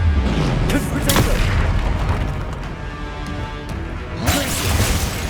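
A fiery Confringo spell blast in Hogwarts Legacy, a heavy booming impact with crackling debris, followed by another burst near the end, with a voice heard around it.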